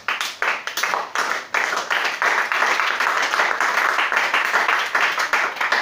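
A church congregation claps for Jesus Christ during a service, starting with a few scattered claps and building into steady, dense applause that carries on throughout.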